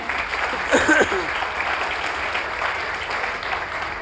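Audience applause for newly arrived guests at a large coaching gathering in Lucknow, a steady broadband clapping that runs the full length, with a brief voice near the start.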